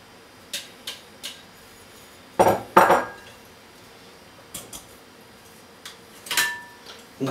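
A whisk works thick mascarpone into egg yolks and sugar in a bowl for tiramisu, making sparse, irregular clinks and scrapes of metal on the bowl with quiet pauses between.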